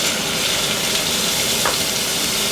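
Washed dried anchovies deep frying in a pan of oil for a Sri Lankan dish, a steady dense sizzle and crackle, close and constant with no pauses.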